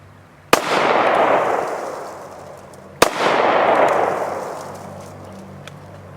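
Two sharp 9mm gunshots from a Double Tap Defense tactical pocket pistol, spaced a few seconds apart, each a loud crack followed by a long echoing decay outdoors.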